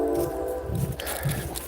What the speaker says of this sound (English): Apologize for the train.